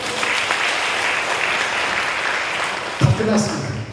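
Applause from an audience at a lecture during a lifelong-learning city workshop: steady, dense clapping that fills the room, with a voice cutting in near the end.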